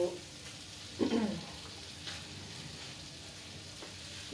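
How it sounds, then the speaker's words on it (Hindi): Okra (bhindi) heating in a pan, a quiet, steady, faint sizzle with occasional soft stirring knocks and a brief louder scrape, no talk over it. "अभी हमारी भिंडी गर्म हो रही है।"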